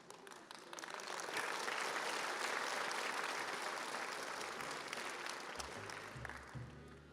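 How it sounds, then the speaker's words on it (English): Sustained applause from a conference audience of a civil service commission, steady and full from start to finish with no voices on top, tapering slightly near the end. "would you please join me in giving yourselves for the Maldives Civil Service Commission a nice round of applause"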